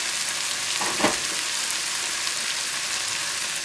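Jerk BBQ chicken sauce bubbles and sizzles steadily in a pan as it cooks down after water is added, a constant close frying hiss with a brief stir partway through and no talking.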